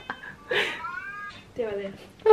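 A cat meows loudly and close by, giving a few short, rising and falling calls in quick succession.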